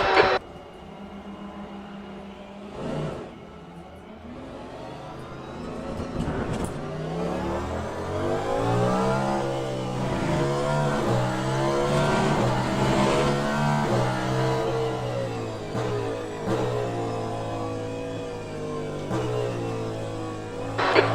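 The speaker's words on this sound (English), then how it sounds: "Here comes the car." A race car engine in the Le Mans Ultimate sim at Circuit of the Americas revs up through gears with rising, sweeping pitch, loud and close, with gear shifts and no talking.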